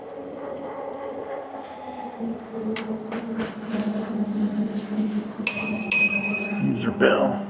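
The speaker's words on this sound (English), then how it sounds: "The bell seems to work pretty well." The handlebar bell on a Velotric Fold 1 folding e-bike with a 750-watt motor rings twice in quick succession, bright and close, after a stretch of riding and road noise.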